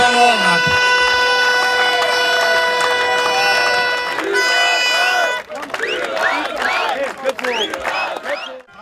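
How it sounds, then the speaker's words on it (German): A crowd at a district cup football final erupts into loud, sustained cheering and shouting after a steady tonal stretch with a held musical tone, the mass of voices swelling and dropping unevenly. "Kaum zu hören in dem Jubel die Ankündigung"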